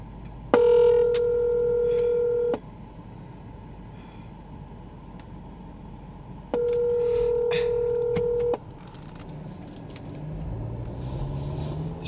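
Two bursts of dual-tone telephone keypad dialing, each lasting about two seconds and separated by a short pause, steady and fairly loud with faint background noise and no talking over them.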